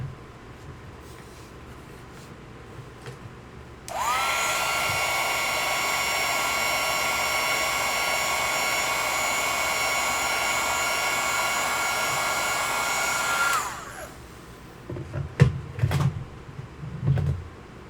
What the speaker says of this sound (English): I'm going to hit this with the dryer.